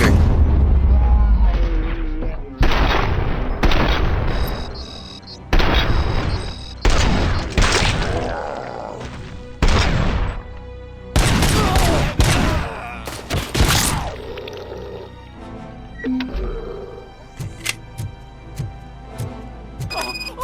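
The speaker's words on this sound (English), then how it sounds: "Every room I go in, their first reaction is to just throw grenades." Grenade explosions and gunfire in the video game RoboCop: Rogue City, a dense run of loud booming blasts and rapid shots, some overlapping, followed by sparser, quieter bursts toward the end.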